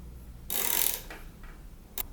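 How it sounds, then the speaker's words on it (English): Roof rack bolts on a 2017+ Mazda CX-5 being hand tightened: a short, close scraping mechanical whir, then a single brief click near the end. "And I'm just going to hand tighten these."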